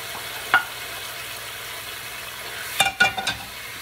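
Ginger, garlic and oyster sauce sizzle steadily in a hot pan, with a few sharp clatters of stirring breaking through the low frying hiss.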